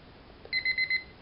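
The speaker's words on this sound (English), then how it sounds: "It's a beep alarm." A Mini Paddington Bear alarm clock gives a short burst of four quick high electronic beeps, clear and fairly loud against a quiet room.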